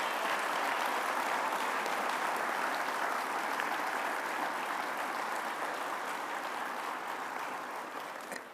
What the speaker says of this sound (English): Y'all please give a round of applause for both of these gentlemen here tonight.